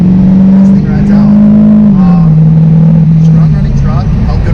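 A Duramax LML diesel pickup, emissions-deleted, pulling hard at full throttle with a loud, steady engine drone that climbs and shifts pitch as it builds revs, heard from inside the cab.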